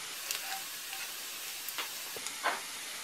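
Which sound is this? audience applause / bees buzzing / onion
onion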